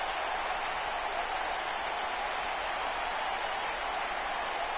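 A capacity wrestling crowd in the arena at WCW Nitro in Albany, New York, applauding in a steady, dense wash of clapping and cheering that holds evenly throughout without letting up.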